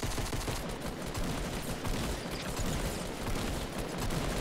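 Rapid gunshots fired in Fortnite, a loud, continuous burst of rapid-fire shooting that fills the whole stretch without pause.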